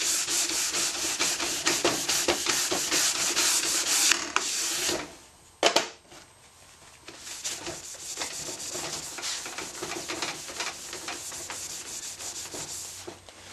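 Brushing and polishing Irox wax on a cross-country ski, a close, steady scratchy rubbing with rhythmic strokes, a short pause midway, then softer continued polishing.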